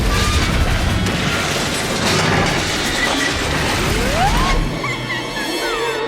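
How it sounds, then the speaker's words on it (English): A bomb explodes in the Batman Arkham Asylum video game, a loud sustained crashing roar with rumbling debris that fades toward the end, while voices speak over it. "It's a bomb!"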